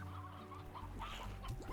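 Chickens in the video game Slime Rancher give a few quick, close clucks over soft game music.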